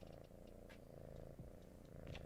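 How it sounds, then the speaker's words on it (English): A fluffy cat named Yeti purring close up, a steady low rumbling purr running the whole time, soft and continuous with no talk. "he's purring already because he just wants to be in here"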